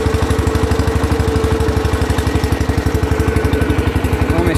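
Tractor engine, a model 140, laboring and straining under load, with a loud, steady rapid low chugging pulse running throughout, close by.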